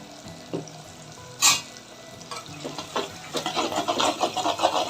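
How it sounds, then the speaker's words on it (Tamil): Onions with turmeric and chili powder sizzle and fry in a pan for a fish gravy, with a spoon scraping and stirring now and then, and the sizzling grows busier toward the end. "வெங்காயம் நல்லா வதங்கிடும்."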